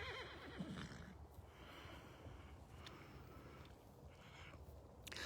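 Horse neighing at a farm where a load of horses is being sorted for shipping, a whinny rising over steady noisy background with faint hoof clip-clops, moderately distant.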